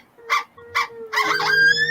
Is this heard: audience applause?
no